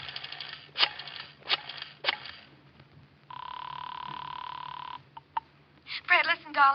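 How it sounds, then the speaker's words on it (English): A rotary telephone is dialed in a 1950 radio drama: a few short clicking bursts, then a long steady tone, then more brief clicks, close and clear under faint background hum. "I dialed 7 times."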